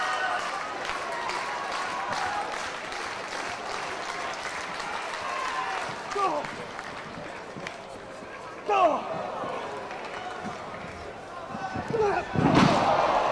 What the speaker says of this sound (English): Beautiful power slam by Joe.